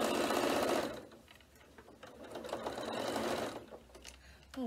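A Janome sewing machine runs in two steady whirring bursts with a brief pause between, fairly close and moderately quiet, with no talk over it.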